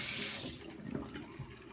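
Tap water runs into a sink as a make-up brush is rinsed, a brief soft splashing flow that eases off after a moment, heard on its own.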